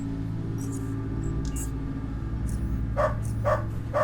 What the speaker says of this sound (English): Okay, there's a dog. You can hear that.